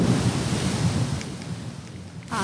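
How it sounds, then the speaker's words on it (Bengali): Steady rain as a sound effect in a narrated story, a dense, even hiss with a low rumble, loud and unbroken throughout, with no voices. "উপর ঝরন বৃষ্টি পড়ছে"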